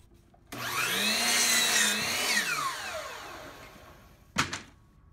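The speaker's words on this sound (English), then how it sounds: "I'll cut the sides to length on the chop saw." A chop saw spins up with a rising whine and bites through wooden side pieces cut to length, the pitch sagging under load before winding down, followed by a short sharp clatter; no talking.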